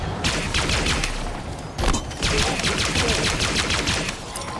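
Rapid sustained automatic gunfire from a Halo Infinite firefight, dense overlapping bursts with booming impacts, loud and continuous with a brief lull near the middle.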